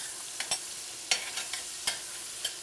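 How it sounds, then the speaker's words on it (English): Onions hit a hot pan and get stirred, giving a soft sizzle broken by several light scraping, clicking stirs at uneven intervals, close and moderately quiet. "I'm going to drop the onions in here. Give it a quick stir."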